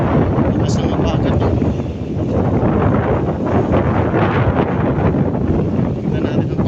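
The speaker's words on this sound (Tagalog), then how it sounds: "Lakas ng habagat." Strong southwest monsoon wind blowing by the sea ahead of a typhoon, a loud sustained roar buffeting the microphone with a continuous rumble and rush, with speech in the clip.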